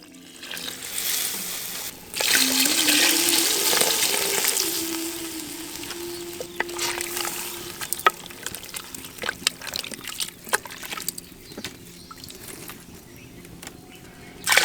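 Water is poured into a pot of horse gram rice and dal, a loud close splashing rush lasting a few seconds that fades into softer trickles and bubbling with scattered clinks.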